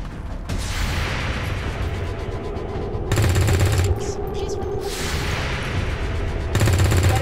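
Gunfire in the turn-based tactics game Long War 2: dense bursts of shots and impacts layered over a constant game soundscape, loud throughout, with two heavier volleys standing out.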